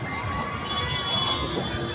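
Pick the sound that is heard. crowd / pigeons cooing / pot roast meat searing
crowd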